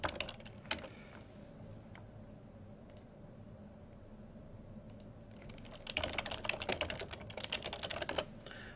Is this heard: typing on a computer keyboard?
yes